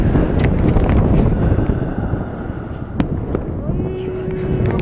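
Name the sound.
strong gusty wind blowing on microphone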